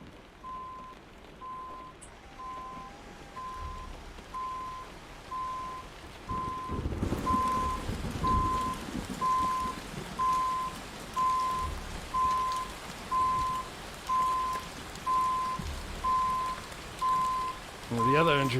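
Steady rain patters on a truck cab in American Truck Simulator. A constant hiss of falling rain is heard with a regular beeping tone and rhythmic wiper-like swells underneath.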